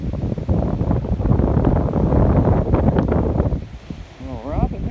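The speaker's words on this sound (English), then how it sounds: "Robin, there the wind. You try to fly. It's blowing every way." On an outdoor morning walk, gusty wind buffets the microphone in a loud, continuous rumble that swells and eases over a few seconds.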